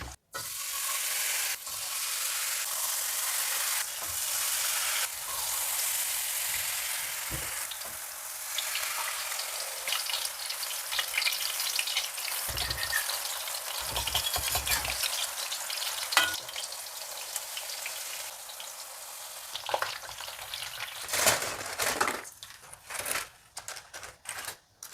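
Peyek, Indonesian crackers, frying in hot oil, a dense steady sizzle with crackling pops throughout, close and alone, thinning into scattered crackles near the end.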